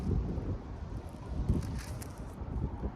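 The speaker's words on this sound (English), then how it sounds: "Got this wind blowing." Wind blows outdoors at a camp, buffeting the microphone with a low, steady rumble that gently swells and fades for three seconds.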